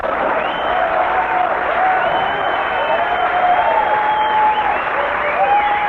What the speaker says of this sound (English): He's applauding for that.